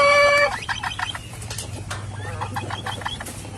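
Rhode Island Red chickens cluck among turkeys in a poultry pen, a run of short, bright clucks and chirps rising over a low steady hum, with scattered softer bird calls continuing nearby.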